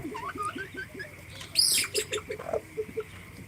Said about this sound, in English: Yo, that's my favorite bird.